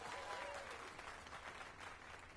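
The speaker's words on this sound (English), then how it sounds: "Let us give a round of applause for young Fulvio" A video game crowd in Dragon's Dogma 2 breaks into steady applause, a dense wash of clapping that holds evenly throughout the short moment.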